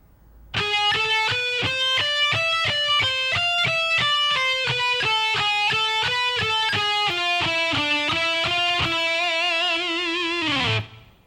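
Distorted electric guitar plays a lick at a slow tempo, a steady run of evenly picked notes stepping up and down, loud and close, ending on a held note that cuts off abruptly.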